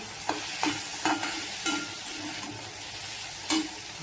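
Okra (bhindi) stirred in a pan with tomato, a soft sizzle under repeated scraping strokes about every half second, close and steady.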